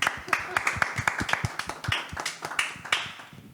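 Claps ring out in a small podcast studio, irregular sharp hand claps from a few people mixed with speech and laughter close to the microphone.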